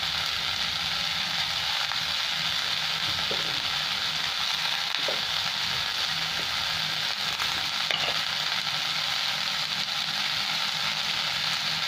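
Vegetables frying in a pan with tomato, salt and turmeric for sambar dal, giving a steady close sizzle with occasional faint stirring clicks.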